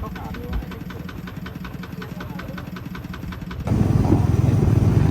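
A tractor's diesel engine chugs at a steady idle with rapid rhythmic knocking, then the sound shifts into a louder, rougher running rumble near the end.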